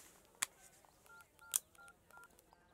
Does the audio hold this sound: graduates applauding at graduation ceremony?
no